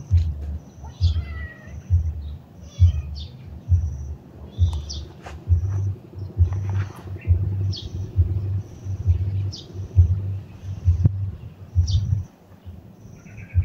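A cat meows several times over a steady low rumble, with faint chirps and clatter in the background.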